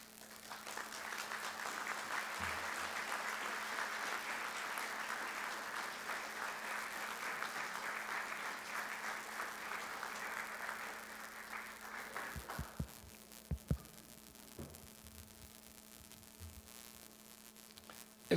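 An audience at a university accreditation ceremony applauds the arriving commission. Steady, moderately distant clapping runs for about twelve seconds over a constant electrical hum, then thins to a few scattered claps and knocks.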